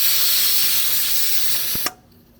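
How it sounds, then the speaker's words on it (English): Steam hisses steadily past the pin of an Afghan pressure cooker, a loud, close, sustained rush ending in a small metallic clack before it abruptly cuts off to quiet. "It's got a little pin in it, so the steam kind of pushes up on it"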